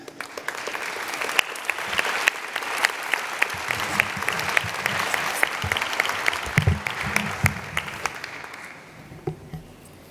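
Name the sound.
audience applause for students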